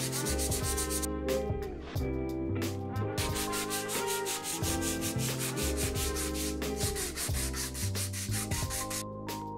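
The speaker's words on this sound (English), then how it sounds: "And then it was time for some classic sanding to smooth everything out again." Hand sanding of a 3D printed axe head coated with primer and spot putty, rapid rhythmic back-and-forth rasping strokes, close and steady with brief pauses between passes.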